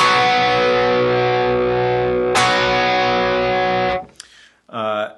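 A heavily distorted electric guitar chord, played on the bridge pickup with heavy drive, rings out with a long, washy reverb, struck again midway, then a brief fretted slide and a final sustained note.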